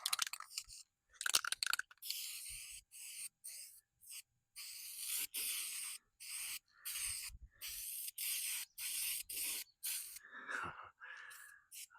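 Short bursts from a spray paint can hiss across an old utility trailer, repeated in a quick stop-start rhythm of brief sprays with gaps between, close and fairly quiet.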